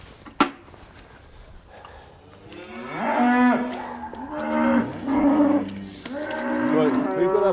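A cow moos several times nearby, long low drawn-out calls in succession, after a sharp knock at the start.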